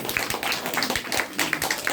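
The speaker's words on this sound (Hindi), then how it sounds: "एक बार नेपाल के लिए जोरदार ताली।" An audience at a DXN business meeting applauds Nepali colleagues with brisk, slightly uneven clapping. The sound is moderately close and a little faint, and it continues for the whole short moment.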